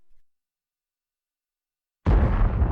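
An artillery shell explodes in the World of Tanks video game, a sudden loud, deep blast after near silence that rumbles on to the end.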